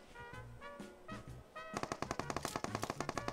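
A UMP submachine gun fires in PUBG Mobile, first as a few scattered shots and then as a rapid, loud automatic burst of evenly spaced cracks, close and with no talking.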